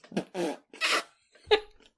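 A voice imitates a fart with the mouth, giving several short buzzy raspberry bursts close up, separated by brief pauses, with a final sharper blurt.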